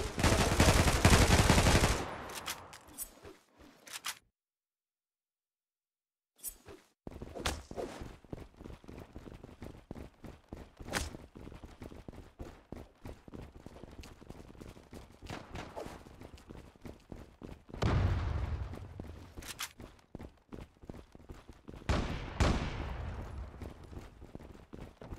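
Gunfire from the online shooter Zula rings out in sharp, dense bursts and rapid single shots across the whole stretch, loud and close, broken by a brief silent gap and a few heavier blasts near the start and end.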